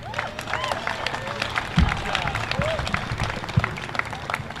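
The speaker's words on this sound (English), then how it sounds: "Another round of applause, please." Outdoor crowd applause at a veterans' parade ceremony, a broad spread of clapping with scattered whistles and cheers on top, plus a few sharp nearby claps and thumps.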